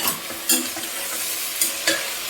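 Thick-cut brinjal pieces sautéing in a pan for brinjal pulao: a steady sizzle close up, with a few sharp scraping stirs of the spatula breaking through.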